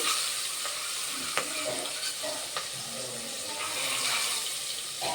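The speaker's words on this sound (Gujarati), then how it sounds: "હવે એને હલાવી દઈશું" Green garlic and asafoetida sizzle steadily in a hot pan while a utensil stirs, with a few sharp scraping clicks against the pan.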